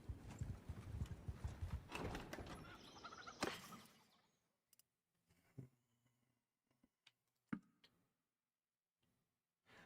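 Horse hooves clip-clopping at a market in Mount and Blade II: Bannerlord, dense busy noise at first, then sparse, separate hoof knocks and clatters in near silence.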